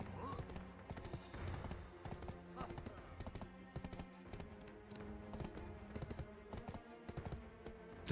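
Horse hooves clip-clopping in the video game Black Desert Online: a steady, close rhythmic trot of sharp hoof taps running throughout over a layer of game music.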